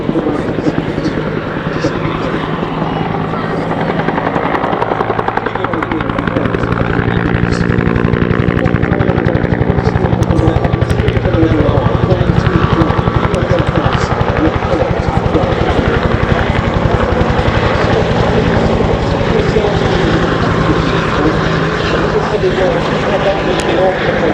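A loud Bell UH-1 Huey helicopter drones on continuously during an air show display at Duxford, rotor chop and turbine whine blending into a heavy, sustained roar close by.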